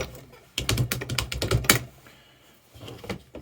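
Keys clack on a repaired Rock Candy keyboard, once damaged by leaking batteries, in a quick burst of close plastic taps before a pause and a few softer presses.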